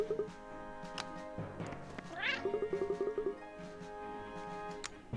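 Cat meows in the video game Cat Quest, a few short synthetic mews followed by a rising trill and a quick chattering series, moderately faint with no talk.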